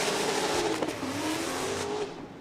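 Jonathan Hurst's Formula Drift car slides through the outside zone at a Seattle drift event, its engine wailing under a continuous roar of tire smoke and squeal, loud and sustained from a moderate distance.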